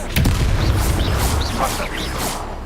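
A spell cast in the Hogwarts Legacy video game bursts out as a loud, booming magical blast, followed by a whooshing, sparkling tail and a game voice mixed in.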